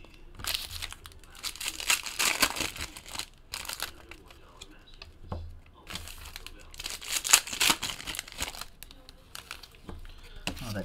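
Foil packs of 2018 Topps Tribute baseball trading cards crinkle and tear open at close range in two bursts of papery rustling, with a quieter pause between them.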